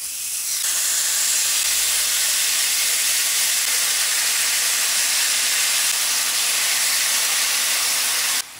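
Marinated pork sizzling on an oiled grill pan, a loud, steady hiss that starts sharply and fills over eight seconds before stopping at the end.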